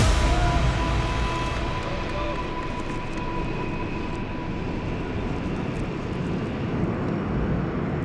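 An airplane taking off, a steady, loud broadband engine roar with a high whine, sustained and close without a break, and no voices.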